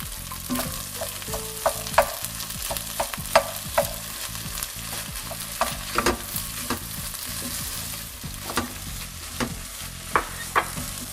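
Chunks of fish and pre-boiled potatoes go into a hot pan and are stirred, giving a steady sizzle of frying with repeated scraping and clinking stirs, close by and with no talking.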